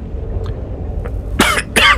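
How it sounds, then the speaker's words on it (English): Two close, forceful coughs in quick succession near the end, following a stretch of low background hum with faint small sounds, early in the morning while playing Warhammer 40K Mechanicus. "Excuse me, a little bit of a cough."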